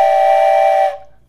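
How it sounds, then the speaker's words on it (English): A toy train whistle used as a children's music class instrument gives one loud, steady, sustained tone for almost a second, then fades away. "another instrument today is our train whistle"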